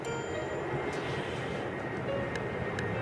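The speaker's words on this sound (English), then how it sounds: "Where's this plane at?" An airplane passes overhead outdoors near an old paddle boat, a steady broad engine roar holding at moderate loudness throughout with no talk.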